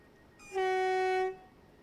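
A loud, steady single-tone train horn blast from the Train Sim Classic game on the South London Network, held for under a second with a sharp start and stop over a low background rumble.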